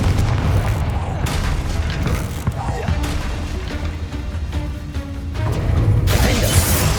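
A Confringo fire spell cast in Hogwarts Legacy bursts with a booming blast over dense, continuous game music and effects, the impact heavy and low, with a brighter rush toward the end.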